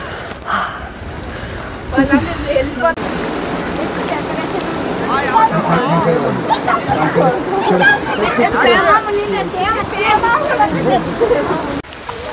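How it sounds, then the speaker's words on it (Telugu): Steady hiss of rain falling throughout at Horsley Hills, with people sheltering, talking and chattering nearby over the downpour. "వద్దు వాన వచ్చేసింది మళ్ళీ"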